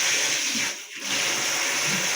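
Water drains from a pedicure foot tub in a steady rushing gush that dips briefly in the middle, then resumes, close by and alone.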